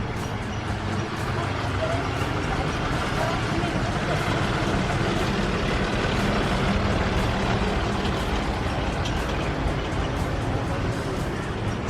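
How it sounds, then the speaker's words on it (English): A local garbage truck run by an independent contractor idles outside, its steady low engine rumble filling the whole stretch at a constant level, with people talking over it. "It's the local garbage truck."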